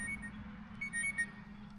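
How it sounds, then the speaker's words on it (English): Faint, short electronic beeps chirp a few times over a steady low hum, quiet and intermittent. "Let me turn my phone off so it stops beeping"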